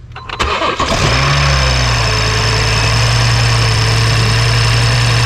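A BMW with a B58 engine cranks briefly and fires up with a loud close rev, then settles into a steady, even idle hum that runs on without a break.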